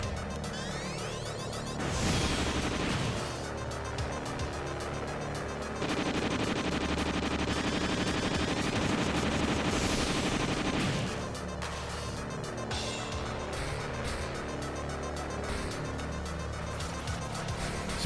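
Dense, continuous gunfire and explosive crashes in the space shoot 'em up Eschatos, layered over loud game music for the whole stretch without letup.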